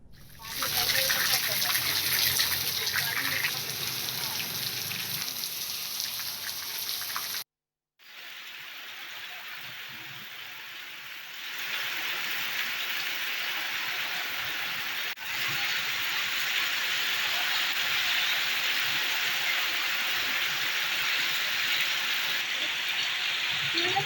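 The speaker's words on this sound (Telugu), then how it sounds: "పలు ప్రాంతాల్లో చోట్ల వర్షం కురుస్తోంది" Heavy rain in Hyderabad pours down as a dense, steady hiss throughout, loud and close, with a brief cut after the first few seconds and a voice speaking faintly at times.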